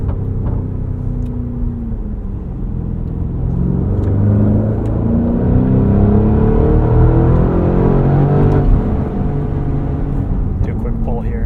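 Inside a 2024 Porsche Cayenne Turbo E-Hybrid Coupe on winter tires, a loud engine drone climbs steadily in pitch as the SUV accelerates, with someone talking over it.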